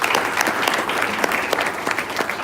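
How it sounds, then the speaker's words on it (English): Audience applause at a spiritual satsang gathering, a room full of people clapping in a dense, lively patter close by, steady for a couple of seconds with no talk over it. "Give her an applause."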